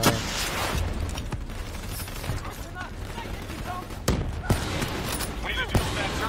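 An enemy turret fires in Black Ops III in scattered bursts of shots and sharp impacts over constant battle noise, with a few louder cracks standing out near the end and voices heard now and then.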